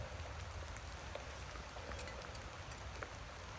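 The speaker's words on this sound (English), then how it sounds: "I'm still getting rained on." Steady rain patters on leaves and gear in a forest, a constant hiss with scattered close drops ticking and tapping, no voices.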